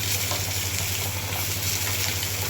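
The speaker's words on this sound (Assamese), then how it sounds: "ইফালে মাছ ভাজি আছোঁ, মাছ ভাজা হৈ আছে" Fish sizzles steadily in a hot pan, a constant soft frying hiss over a low background hum, with no voices.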